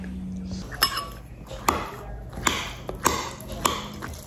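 A spoon clinks and taps against a bowl while tofu bibimbap is mixed, with a few sharp scraping strikes spaced irregularly over a quiet room background.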